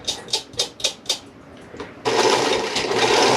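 Sewing machine stitching thick denim from jeans, with a few slow, hand-cranked thumping stitches that then break into a continuous fast, loud whirring run close by.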